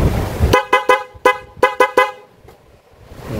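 Several short, loud toots from an aftermarket loud horn installed on a Honda Beat scooter, in a quick irregular burst, then a pause, with a faint engine hum underneath.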